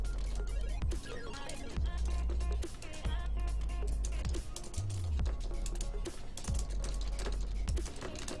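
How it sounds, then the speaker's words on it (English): Fast typing on a computer keyboard during a World of Warcraft PvP match, with rapid, steady key clicks over game music and effects, running continuously with no pause. "Typing the strategy, guys,"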